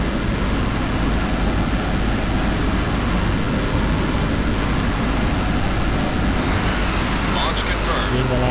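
Jet fighter engines, Su-27 and F-2, in the flight combat game Tom Clancy's H.A.W.X., a loud continuous roaring drone that fills the whole clip, with a thin whine and brief effects rising near the end.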